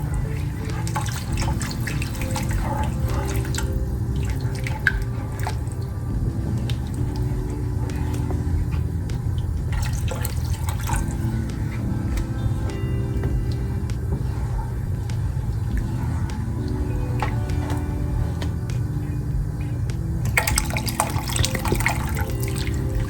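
Water from a bottle pours steadily into a pot for a long, continuous stretch, making a sustained gurgling splash. Brief splashier bursts break in now and then.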